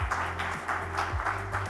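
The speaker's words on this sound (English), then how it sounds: "Could we please have a round of applause?" An audience at a national news conference gives a brief round of applause to welcome a Union Minister, faint scattered clapping over a low background hum.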